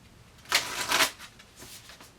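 A deck of oracle cards is shuffled close by in a quiet room, with a short riffle of crisp flicking bursts followed by a few softer card slides.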